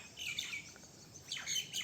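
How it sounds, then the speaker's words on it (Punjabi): Faint sparrows chirp in short, high bursts, a few quick calls spread across a quiet outdoor background among green hills near a gurdwara. "ਚਿੜੀਆਂ ਦੀ ਚੂਚੂ ਕੋਇਲਿਆਂ ਦੀ ਕੂਕੂ"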